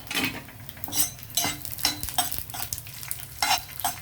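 Garlic cloves, chana dal and urad dal fry in hot oil for a raw banana and capsicum stir fry, sizzling steadily while a spoon scrapes the pan in repeated strokes, close and fairly loud, with no talking.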